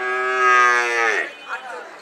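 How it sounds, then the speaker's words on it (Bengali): A cow at a cattle market lets out one loud, close moo that holds steady and then slides downward, ending in a softer trailing grunt. "এই লালটা কয় দাঁতের গরু?"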